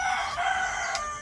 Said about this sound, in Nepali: कुखुरा एकदम कराइरहेको छ यहाँनिर